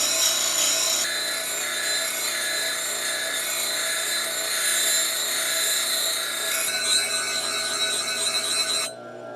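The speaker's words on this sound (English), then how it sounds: "You just keep grinding it straight across." A spindle gouge is ground flat straight across on a grinder, giving a steady, loud, continuous whirring rasp that holds for about nine seconds and then drops off sharply at the end, with no talk.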